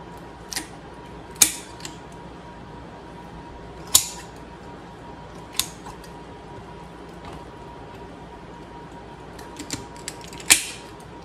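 Shears or a knife cut along a raw turkey's backbone to spatchcock it, giving a handful of sharp, isolated snips and crunches spaced a second or two apart over a faint steady hum.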